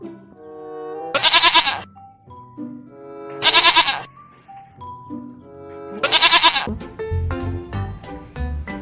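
Goat bleats three times in a wildlife video game, loud harmonic cries spaced a couple of seconds apart with softer game tones between them and a low rumbling thud near the end.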